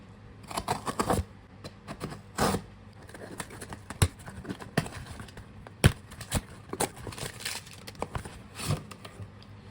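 A knife cuts and scrapes through the packaging of a Hollyland Lark M2 wireless mic box in a run of close, sharp slicing and crinkling strokes with short pauses between them.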